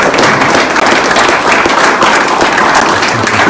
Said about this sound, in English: Can I get a round of applause for those